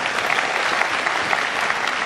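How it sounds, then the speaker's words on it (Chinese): Audience applause at an evening song-and-dance show, a dense, steady burst of clapping from a crowd that fills the whole moment at close range. "大家鼓掌一下吧。"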